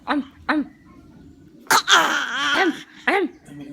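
A child gives a few short throaty coughs and grunts in quick succession, close by, with a rough strained outburst in the middle.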